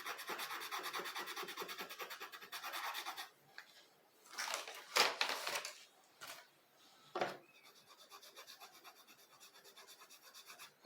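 Pastel chalk is rubbed across paper in close, scratchy strokes: a long steady rubbing passage, then a few short, sharper bursts, with no talking.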